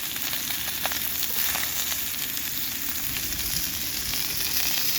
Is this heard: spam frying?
yes